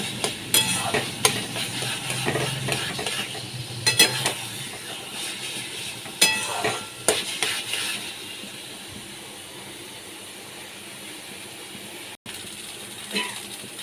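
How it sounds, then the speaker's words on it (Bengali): Taro greens being stir-fried dry in a pan with shrimp, with a soft background sizzle broken by repeated scraping and stirring strokes in bursts, then a quieter stretch near the end. "ভালো করে আমি শাকগুলোকে কষিয়ে নিচ্ছি একদম শুকনো শুকনো মতো"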